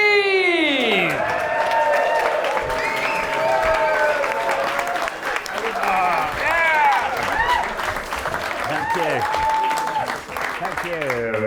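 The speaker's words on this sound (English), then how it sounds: "Thank you for that lovely round of applause." A comedy club audience gives a sustained, loud round of applause with cheering and whoops as a comedian is welcomed to the stage, a dense steady roar with voices shouting over it.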